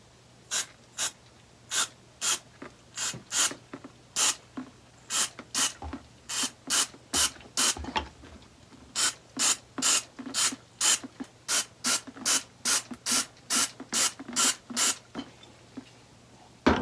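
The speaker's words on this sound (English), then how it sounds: "I'm going to start spraying this tip." Bursts of Great Stuff Pro gun cleaner sprayed onto a clogged foam gun tip, dozens of short sharp hissing squirts in quick irregular runs, close and fairly loud with no talking.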